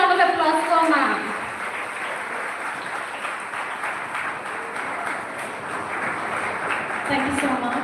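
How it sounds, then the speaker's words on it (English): An audience claps to welcome a speaker at a B.Tech student orientation program, broad applause running throughout, with a voice and some tonal sound over it at the start and again near the end. "Please give a huge round of applause for ma'am."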